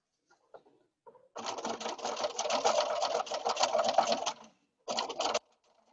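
A sewing machine chain piecing small quilt block units runs in a steady, close mechanical whir for about three seconds, then stops and gives one more short burst, with faint handling clicks before it.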